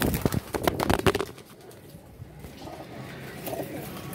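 Pigeons cooing in a loft, soft low coos repeating over the first second or so amid scattered bird calls and clatter, then quieter background noise.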